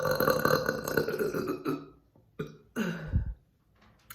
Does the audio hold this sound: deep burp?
yes